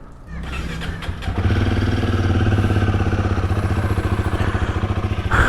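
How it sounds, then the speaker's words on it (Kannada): Motorcycles warming up on a cold night near Guwahati: one engine cranks and catches, then settles into a loud, close, steady idle with a rapid, even pulsing beat. "let's warm the bikes up"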